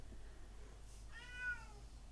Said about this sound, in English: Shut up, cat, who are you?